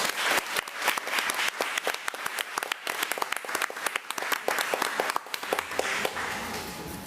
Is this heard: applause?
yes